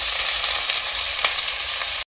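Tender bottle gourd peels frying with garlic and onion in a hot wok: a dense, continuous, close sizzling hiss at even loudness that cuts off sharply at the end, with no speech.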